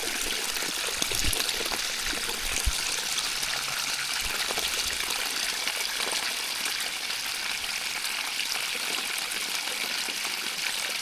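Muddy stream water after rain, flowing steadily in the wild on a cycling trip from Yakutsk to Magadan, a continuous close trickling and rushing wash with no talk.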